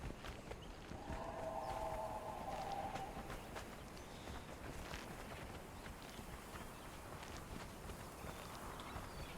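Horse hooves clip-clopping in a video game, a continuous soft patter of steps at moderate distance, steady and unbroken with no talking.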